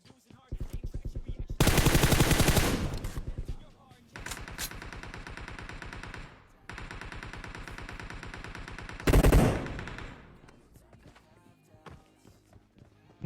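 Gunfire in the mobile battle royale game PUBG Mobile: loud bursts of rapid automatic fire come in several spells of a few seconds each, with quieter pauses between them and no speech.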